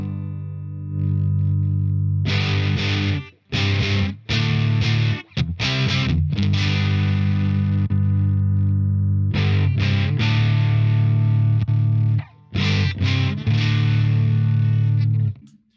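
Electric guitar played through a Boss Waza BP-1w booster/preamp set to its Chorus Ensemble side, giving a bright, shimmering, slightly distorted tone in sustained chords and notes with a few short pauses, heard alone.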